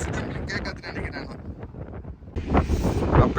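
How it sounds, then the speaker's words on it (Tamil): Strong wind roars across the open deck of a cruise ship sailing between Belfast and Liverpool, buffeting the microphone in loud gusts, and a voice speaks faintly through it. "செம்ம காத்து அடிக்குது."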